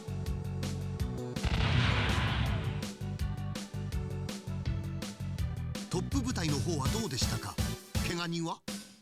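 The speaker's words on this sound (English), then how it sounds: "Ooh, I love laser cannons." Laser cannons fire in the mecha anime Gunbuster, a rapid run of loud punchy blasts and crackling bursts layered with music and voices.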